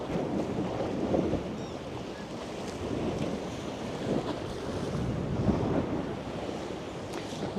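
Rough winter sea at Langeron beach in Odesa, with waves surging and crashing continuously against a steady roar of wind buffeting the microphone, loud and close throughout with no break.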